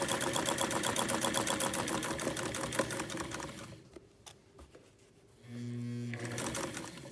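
A sewing machine runs in fast, steady bursts while top stitching a doll's pants, the motor's rapid clatter loud and close, pausing briefly for a couple of seconds before starting up again.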